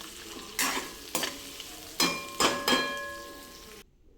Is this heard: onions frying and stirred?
yes